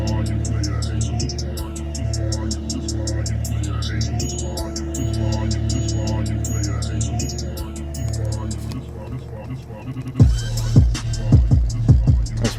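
A car subwoofer in a Vauxhall VXR pumping bass-heavy music, a deep sustained throbbing low end with layered tones carrying throughout, then louder punchy bass hits near the end.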